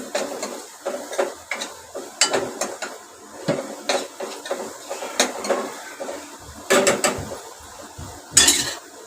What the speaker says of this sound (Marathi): आता मसाला, हळद, हिंग आणि थोडीशी धना जिरा पावडर ती घातली आणि ती चांगली परतून घ्यायची